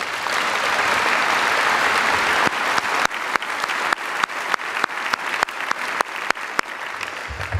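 A large audience at a high school graduation ceremony applauds steadily and loudly, a dense wash of clapping with a few sharper claps standing out toward the end.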